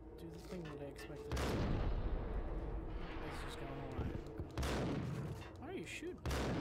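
Gunfire in the video game Max Payne bursts out in loud, rapid volleys, several heavy shots in sequence with brief gaps between them, while a person talks over the action.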